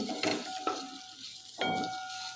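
Eggs being turned in hot oil coated with turmeric and red chilli powder for a dhaba-style egg curry, a faint sizzle under a few soft scraping stirs, close and quiet, with no voices.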